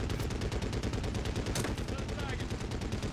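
Dense, continuous automatic gunfire in the video game Medal of Honor Warfighter, loud rapid bursts filling the whole stretch without a break.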